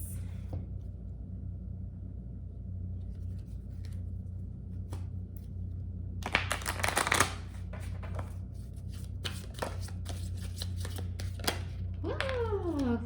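Tarot cards are handled and shuffled at close range in short rustling, flicking bursts, with a louder riffle in the middle and quieter taps and slides around it over a low room hum.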